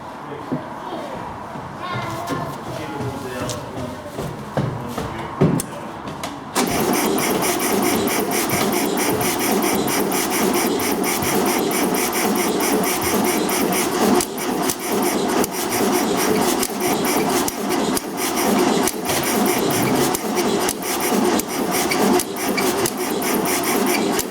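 A 1974 rat-look VW Beetle engine, primed with petrol down the carburetor, cranks and fires, then runs on in a loud, steady, raspy air-cooled clatter for many seconds, with voices speaking over it.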